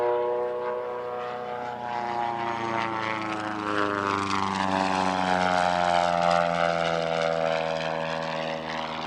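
Long-EZ canard-configured kit plane, with rudders on its winglets and no vertical stabiliser, flying past at an airshow. Its propeller engine makes a loud, steady drone whose pitch shifts as it passes close by, with no talk over it.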